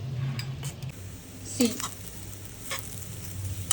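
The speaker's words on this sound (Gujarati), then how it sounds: "હવે આપણે મિક્સ કરીશું. આપણે બધી નાખી દઈશું" Roti pieces tossed with spices in a hot pan, soft sizzling under scraping and tapping of a spoon against the pan, with a low hum in the background.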